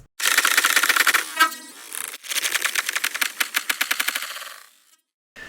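A chopped sample is run through the Patchworker granular synthesizer's texture mode while the grain size is modulated. It gives rapid, clattering stutters of dense, bright grains in fast bursts, broken by brief gaps, then trails into silence.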